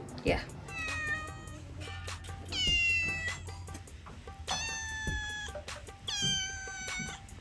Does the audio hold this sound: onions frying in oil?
no